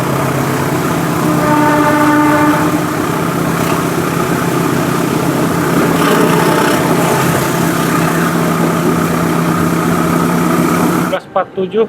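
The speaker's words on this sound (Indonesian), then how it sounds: "Kereta api ini berhenti tuh, stasiun Leles." Loud, continuous rumble of a passenger train stopping at Leles station, with engine drone and rail noise throughout, ending abruptly as the sound cuts out near the end.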